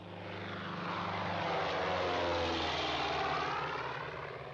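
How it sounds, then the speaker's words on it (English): A propeller airplane engine from the film Casablanca drones steadily, swelling louder and then easing slightly as it passes, a broad rumbling roar with no voices over it. "That's the plane, huh?"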